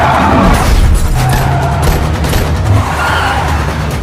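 A car runs a red light and speeds off, its tires skidding: a loud, sustained screech and engine roar with a rumbling low end, steady for about four seconds.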